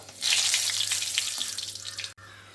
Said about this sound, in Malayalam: എണ്ണ ചൂടാകുമ്പോഴത്തേക്കും കടുക് പൊട്ടിക്കുക